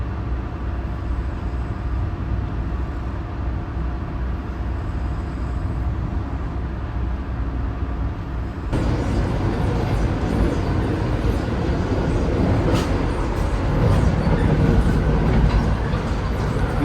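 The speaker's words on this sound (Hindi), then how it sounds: "निकलते ही गाड़ी 130 की रफ्तार में भाग रही है।" A Vande Bharat express running between New Delhi and Varanasi at around 130 km/h, heard from inside the chair car as a continuous loud rumble and rushing roar that grows rougher and busier partway through.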